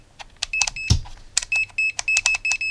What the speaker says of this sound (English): I like that beep beep sound because it indicates that I select new function